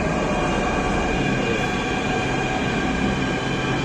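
A Jaipur Metro train runs at speed, giving a loud, steady rolling roar with a faint metallic whine and no pauses, heard from inside the carriage.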